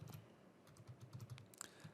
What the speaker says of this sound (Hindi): यहाँ पे मैं एक नेम एंटर करता हूँ